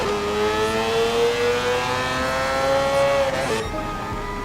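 A Mazda 787B rotary-engined race car in Gran Turismo Sport: a loud, sustained high-pitched engine wail holding steady at speed, then a brief dip as the revs shift near the end.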